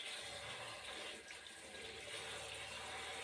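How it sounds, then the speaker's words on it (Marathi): Steady running water splashes continuously as taro leaves are rinsed under flowing water, with no voices. "व्यवस्थित अशी अळूची पानं धुवून घ्यायची आहेत"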